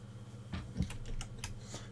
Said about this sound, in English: I think she's still typing.